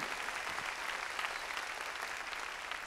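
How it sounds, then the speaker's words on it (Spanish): Church congregation clapping loudly for the Lord during a sermon, a thick continuous burst of many hands applauding at a steady, full level throughout. "Démosle palmas fuertes, hermano, a nuestro Señor."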